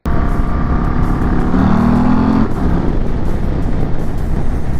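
Harley-Davidson CVO Road Glide ST motorcycle with a 121-inch engine, riding at speed: a loud, steady engine drone with wind rush throughout, the pitch rising briefly mid-ride, no talk.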